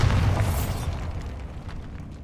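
A Bombarda blast spell from Hogwarts Legacy booms heavily at the start, then its rumble decays and fades over the following two seconds with no voice present.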